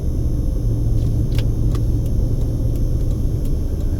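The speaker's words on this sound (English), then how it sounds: "that traffic is brutal" Heavy road traffic backed up near a Walmart in Las Vegas, a continuous low rumble of car engines and tires close by, steady and dense without pause or voices.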